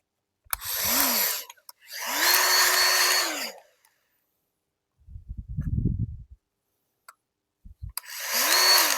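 AEG 18V cordless grease gun pumping grease, three whirring motor bursts of a second or so each, close and fairly loud, with a short rattling clatter in between and brief pauses of silence.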